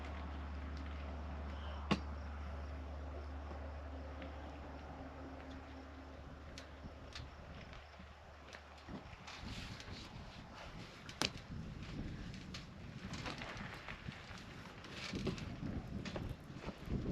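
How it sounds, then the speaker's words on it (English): Wind buffets a microphone outdoors, a steady low roar that grows rougher and gustier in the second half with scattered thumps and crackles, no voices. "I got wind everywhere. Getting worse by the minute."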